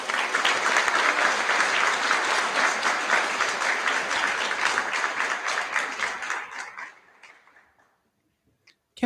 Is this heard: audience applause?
yes